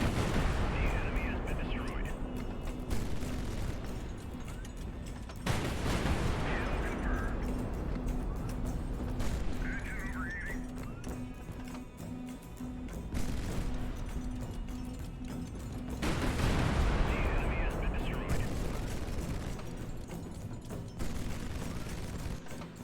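Plunging artillery fire striking ships in the naval strategy game High Fleet, heard as repeated heavy booming impacts a few seconds apart over a continuous loud rumble of battle, with someone talking throughout.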